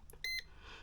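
A single short electronic beep from a DR OTEK MT6 Pro pinpointer metal detector, high and clear, with a faint click before it.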